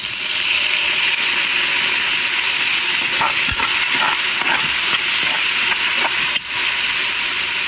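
Fish sauce sizzling loudly in a hot pan with garlic, onion and ginger, a dense continuous hiss with soft scraping stirs and a brief dip near the end, no talking.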